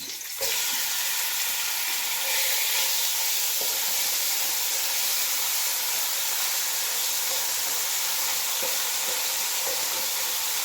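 Chicken frying in ghee in a wok, a loud steady sizzle and hiss with a sharp burst as it goes in, then continuous crackle and occasional stirring scrapes, no voices.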